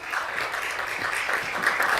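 Audience applause at a Tobago Day annual debate ceremony, a steady dense wash of clapping from a crowd that holds evenly for about two seconds with no voices over it.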